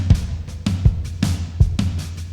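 Sharp MIDI-played snare hits crack in a steady backbeat between low thumping kick drums, close and punchy, with no one talking.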